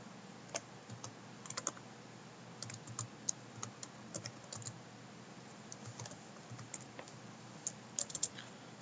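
Rapid typing on a computer keyboard at a workstation, entering commands into a chip-design synthesis shell: a faint, steady patter of light key clicks, with a few sharper taps near the end and no talking.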